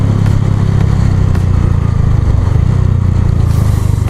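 A Hero Karizma-R motorcycle, eleven years old, runs with a loud, close, steady low engine rumble that holds evenly throughout with no talking.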